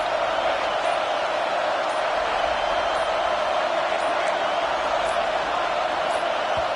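A packed stadium crowd in NCAA College Football 25 roars in a steady, loud, unbroken wash of noise throughout a snap, with a few faint clicks on top.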